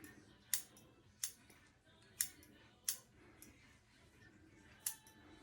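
Sharp scissor snips trim the front of a hair unit at close range, five crisp cuts spaced roughly evenly against a quiet background.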